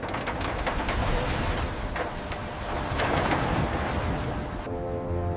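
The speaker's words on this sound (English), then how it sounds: "The howl of the wind and the rhythmic sound of waves against the bow." Howling wind and waves striking the bow of a wartime Liberty cargo ship at sea, a loud, continuous roar of rushing air and surging water that drops away abruptly near the end.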